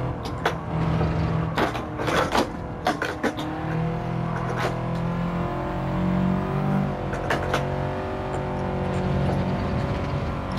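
A modified or stock Toyota or Subaru race car in Gran Turismo 7 revs its engine in a steady, droning tone that shifts pitch as it climbs and drops. A few sharp clicks sound over it, with no talking.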